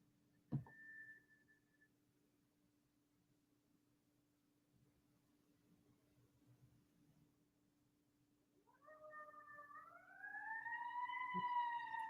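A faint siren wails in the distance, swelling and rising in pitch toward the end after a long, quiet stretch with a brief tone early on.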